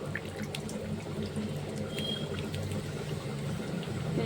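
Water drains steadily from freshly curdled chhana (homemade paneer) through a cloth-lined strainer basket in a home kitchen, a continuous soft trickle with no voices.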